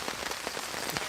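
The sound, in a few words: rain falling on a campsite in Scotland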